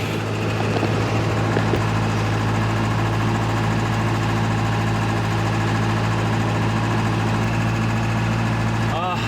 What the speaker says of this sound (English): I did not know the engine would actually get this flipping far.